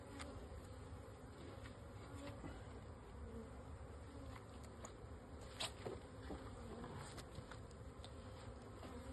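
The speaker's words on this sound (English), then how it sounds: "you'll probably see bees fanning pheromones to signal where home is now" Honey bees from an April package buzz around a newly installed hive, a steady close droning hum with individual bees passing near and away.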